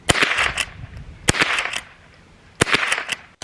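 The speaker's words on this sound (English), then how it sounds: "and then cock the rifle" A tube-fed lever action rimfire rifle is cocked, giving three clusters of sharp metallic clacks and rattles, each a quick burst of clicks spaced about a second apart, close and crisp.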